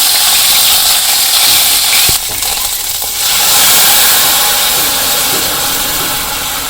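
Ginger sizzles loudly in hot oil on a village stove while dal cooks, a dense, steady hiss that briefly dips around the two-second mark before surging back, with no talking.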